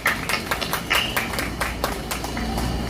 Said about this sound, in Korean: 하나님께 영광 박수로 드립니다